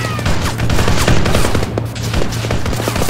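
Sustained automatic gunfire in the Warhound Campaign shooter, loud and close, with rapid bursts rattling continuously over a low droning engine hum.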